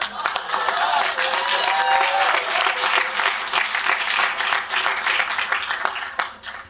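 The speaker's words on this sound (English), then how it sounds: "Round of applause for dots." A conference audience at a hacker convention gives a sustained round of applause, with dense clapping, scattered crowd voices and a few whoops, fading out at the end.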